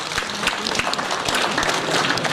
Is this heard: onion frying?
no